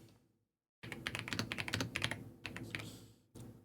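Fast typing on a computer keyboard, a dense run of close, crisp key clicks that pauses briefly and then resumes.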